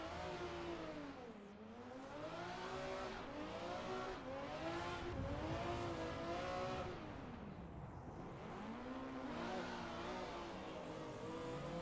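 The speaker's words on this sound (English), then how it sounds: "cars crashing everywhere." Racing cars in a drifting video game, several engines revving and whining up and down in pitch, sweeping in waves at a steady moderate level with tire noise, and no crash impacts stand out.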